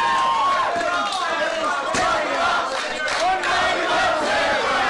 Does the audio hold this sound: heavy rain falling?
no